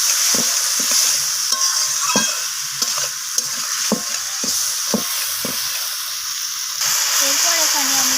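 Potato, cauliflower and beans sauté with spices in a pan for a vegetarian curry: a steady, bright sizzle runs throughout, broken by regular scraping stir strokes close up, with faint voice in the background.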